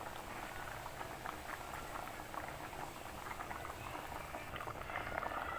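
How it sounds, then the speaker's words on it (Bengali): Taro (kochu mukhi) boils in a pot with a dense, continuous bubbling and soft popping that stays steady throughout. "কচুরমুখী একদমই সিদ্ধ হয়ে গেছে।"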